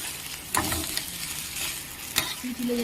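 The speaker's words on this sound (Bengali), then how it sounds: "ভালো করে মশলাটা মাখিয়ে নেব" Spices are worked by hand into a mixture for Bengali egg chops, giving soft squelching and rubbing sounds with a couple of sharper clicks over a faint background sizzle.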